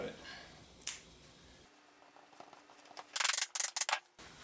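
Scissors cutting rope for a homemade wood-and-rope cat scratching post, heard as a few quick, close snips and crunches near the end, after a sharp click and a stretch of quiet.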